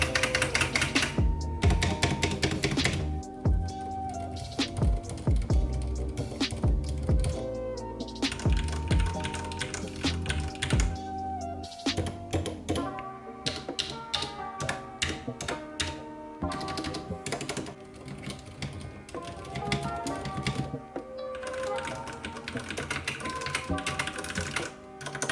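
Typing on a Ducky One 2 RGB TKL keyboard with Cherry MX Red switches: a fast, continuous stream of close, crisp key clacks with heavier thocks mixed in, steady throughout with no voices.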